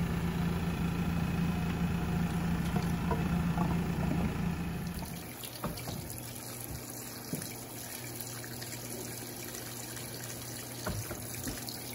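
Water rushing from an Electrolux Turbo Compacta 7 kg top-load washing machine as it drains after the spin cycle, a steady loud gush that drops to a quieter continuous flow partway through.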